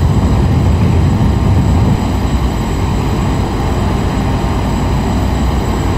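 A Twin Otter's twin engines roar through a takeoff roll in the X-Plane 10 flight simulator, a loud, steady, low-heavy drone that holds constant with no voices.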